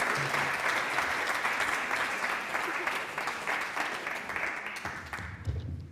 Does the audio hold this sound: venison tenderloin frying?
no